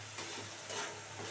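Fish curry spices with turmeric and salt sautéed and stirred in a pan, a soft steady sizzle with light scraping under a constant low hum, no voices.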